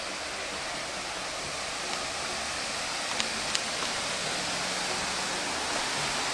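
Thác Mu waterfall pours with a steady, unbroken broadband rush of falling water, close and even in level throughout, with a couple of faint brief ticks and no voices.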